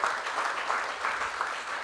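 A church congregation claps together in sustained, steady applause for about two seconds, the clapping dense and fairly close.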